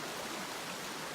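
Creek water flowing beside the Uwharrie hiking trail, a steady close broadband rush with no breaks and no talking.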